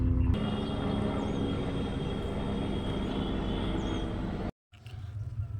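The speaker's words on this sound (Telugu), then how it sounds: "చూసారు కదా హెలికాప్టర్ ఎంత కింద నుంచి వెళ్ళిందో" A helicopter passes low overhead as a loud, steady roaring drone that fills the first four and a half seconds, then cuts off abruptly, leaving quieter background noise.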